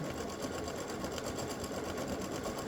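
An embroidery machine stitching freestanding lace Valentine heart earrings with satin and regular stitching, running in a fast, steady, close mechanical whir with an even repeating needle rhythm throughout, no talk.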